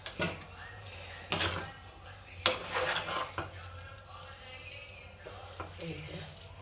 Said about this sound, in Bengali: এলাচ, দারচিনি, গোলমরিচ, লবঙ্গ অল্প একটু দিয়ে দিচ্ছি ফ্লেভারের জন্য। এই যে একটু নাড়াচাড়া করে দেবো।